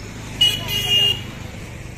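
A four-wheeler pulls away along a street in Kumorpara during unloading of sound equipment, with steady engine rumble and a brief high tone like a horn or alarm midway, over background noise.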